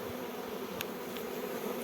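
Steady, continuous buzzing of many bees around a hive, a dense hum that stays even throughout with no voices.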